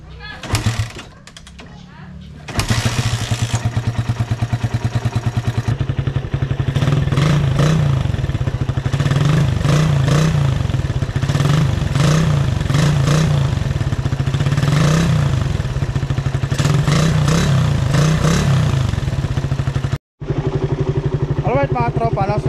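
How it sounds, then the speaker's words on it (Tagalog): A 2011 Suzuki Raider 150 New Breed motorcycle idles through its original exhaust, a loud, close, steady throbbing putter with repeated throttle blips, running almost continuously after a quieter opening stretch. "sound check tayo sa original sound ng New Breed"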